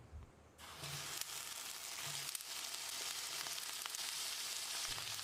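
Sliced eggplant, cut lengthwise and soaked in water, drops into hot oil in a pan and sizzles loudly and steadily right after a short quiet start, with no talk.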